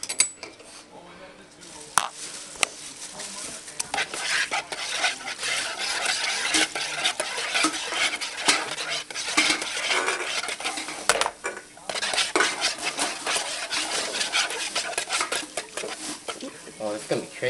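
Clinking and scraping of a utensil stirring an energy drink mixture in a container, busy and continuous with dish-like knocks, while people talk casually throughout.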